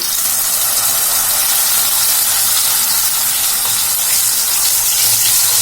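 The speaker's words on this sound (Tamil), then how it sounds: "இப்ப நம்ம மிக்சியில அரைச்சி வச்சிருந்த இந்த தக்காளியை வந்து இது கூட ஊத்திக்கலாம்." Ground tomato puree is poured into hot oil with popped mustard and cumin seeds, giving a loud, continuous hiss and sizzle with no talk.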